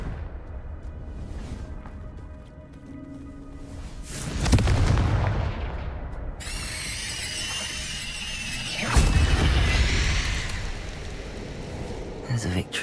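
Confringo fire spell blasts in Hogwarts Legacy, two heavy booming explosions several seconds apart amid crackling, hissing spell effects and ongoing combat noise.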